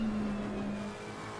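A GT4 race car engine in a Nürburgring endurance racing video game drones steadily with a sustained whine and passing-car roar, loud and continuous, with no talk over it.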